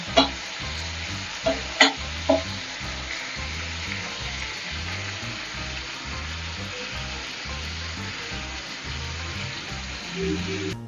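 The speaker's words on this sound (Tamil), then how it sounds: "கலர் சேஞ்ச் ஆகிற வரைக்கும் நம்ம ஃப்ரை பண்ணிக்கலாம்." Paneer frying in a pan, a steady close sizzle that runs continuously throughout, with a few faint utensil taps near the start.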